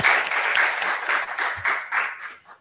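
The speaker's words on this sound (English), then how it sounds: "we can clap again" Brief burst of applause for retirees at a school board meeting, a modest group clapping close by in uneven waves that thin out at the end.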